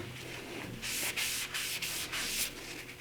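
A rag rubs across a burned, turned wooden bowl in several firm back-and-forth strokes, a close, dry swishing rasp in bursts with short pauses between them and no talk.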